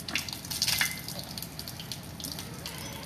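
Water splashes from cupped hands onto the face during wudu, the Islamic ablution, in a few quick splashes at the start over a constant soft flow of running tap water.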